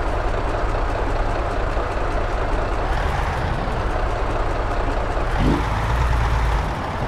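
A heavy truck engine idles and runs with a steady low rumble in American Truck Simulator, hauling 125 tonnes of sugar from Cartagena to Barranquilla; the drone holds constant throughout, with a slight shift near the end.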